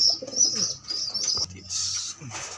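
Young blue bar pigeon squabs make high, insistent peeping calls in quick repeated bursts close up, over a faint low cooing.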